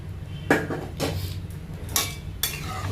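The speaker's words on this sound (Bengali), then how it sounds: "এখন মা বাটি ধুয়ে সামান্য একটু গরম জল এর মধ্যে দিয়ে দিচ্ছে" A bowl being rinsed with hot water while making moong dal with winter vegetables: a few separate clanks and splashy scrapes of a metal bowl, close and fairly loud, with short pauses between.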